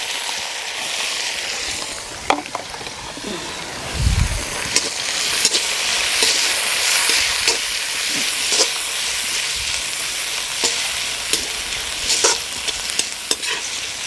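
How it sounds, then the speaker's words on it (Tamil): Spices and finely chopped onions with rock salt sauté in hot oil for chilli chicken, a steady bright sizzle with frequent scraping stirs and clinks of a spoon against the pan. "எண்ணெய் நல்லா சூடாகிடுச்சு. ஏற்கனவே சொன்ன அந்த மசாலாலாம் போட்டு ஃபஸ்ட்டு வதக்கிடுவோம்."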